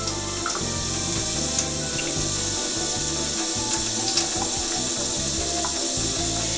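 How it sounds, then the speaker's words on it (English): Water running and splashing into a cup, filling it with a couple of ounces for a pH test, a steady close trickle with light rubbing and clinks. "Put a couple of ounces of water into a cup."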